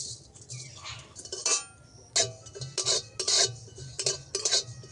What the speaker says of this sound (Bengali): জিরেটাকে ভালো করে ভেজে নেব।